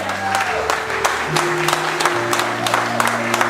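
A church congregation applauds and cheers the Lord during worship: steady clapping from a crowd fills the room, with sustained musical tones underneath throughout.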